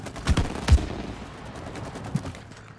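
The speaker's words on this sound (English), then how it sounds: "I need to shoot that one, I think." Gunshots in the video game It Takes Two, a quick pair of close, punchy shots followed by a further shot and a fainter pop over low background game sound.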